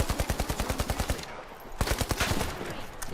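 Rapid automatic gunfire in a shooter video game bursts out in a steady, evenly spaced volley, pauses briefly, then resumes with another fast string of shots, loud and close.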